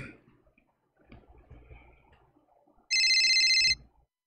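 A telephone rings once in a short, loud electronic burst near the end, following quiet rustling and faint background sounds.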